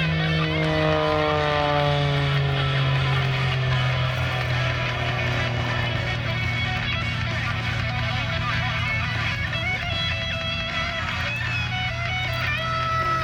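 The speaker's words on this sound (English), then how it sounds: "that beautiful German design and built superplane, the Extra 300" An Extra 300 aerobatic plane of German design drones overhead at an air show, a steady engine hum with its pitch sliding downward as it passes, with a faint announcer's voice.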